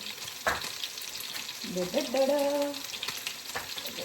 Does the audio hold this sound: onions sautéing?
yes